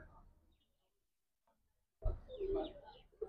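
Pigeons at a loft, with a short low cooing burst after a near-silent gap, close and fairly loud, with some faint vocal sound beforehand.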